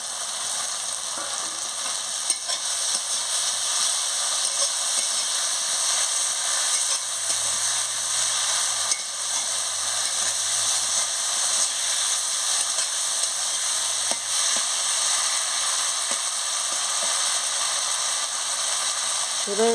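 Cumin powder and green chillies sizzling in a frying pan, a constant bright crackling sizzle with occasional faint stirring scrapes and a soft low voice in the background.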